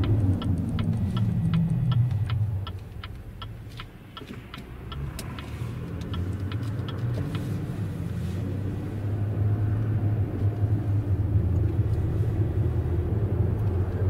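A car rolls past on the road, a broad rumble that swells and then fades, with faint regular ticking overhead.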